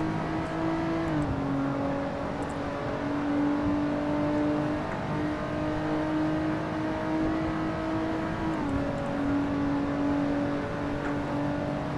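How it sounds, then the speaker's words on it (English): Race car engine in the Assetto Corsa video game: a continuous loud, buzzing engine note that holds steady, drops in pitch with downshifts around one and eight and a half seconds, then climbs again, with no talking. "Downshifts are awesome. They sound absolutely awesome."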